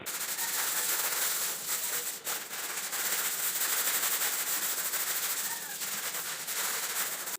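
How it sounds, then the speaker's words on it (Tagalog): Hand sanding of a surface with 240-grit sandpaper before painting with automotive enamel, a continuous close rasping hiss of rapid back-and-forth strokes that barely pauses, heard alone. "lilihain muna natin ito"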